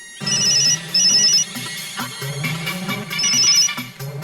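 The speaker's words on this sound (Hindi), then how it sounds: "Come on, Malika, pick up the phone." A phone ringtone plays loudly and close, a bright repeating electronic melody with no voices.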